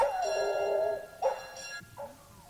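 A monastery dog sounds off at a moderate distance with a drawn-out whining bark followed by two shorter yelps, set against a quiet background.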